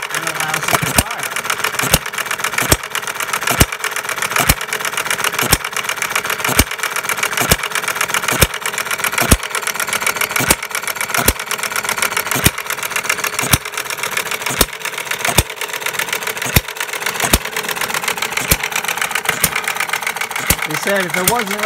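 A 1/3 scale gas-powered Breisch Associated Hired Man hit-and-miss engine runs indoors, firing in sharp regular pops about once a second over a steady mechanical whir, with someone talking throughout.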